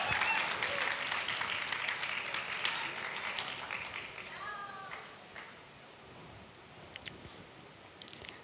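Applause from a crowd fades out over several seconds, a soft voice briefly audible, leaving scattered light clicks and near-quiet.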